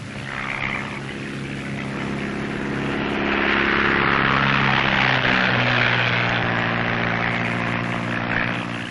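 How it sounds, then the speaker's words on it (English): A propeller airplane taking off in 1935 Ethiopia, a steady loud engine drone that swells and stays strong throughout, with no voices over it. "And then the plane takes off."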